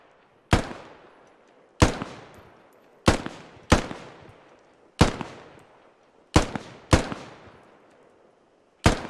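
Single rifle shots in the game Squad, eight sharp loud cracks spaced a second or so apart, each trailing a short echoing decay, with no other sound between them.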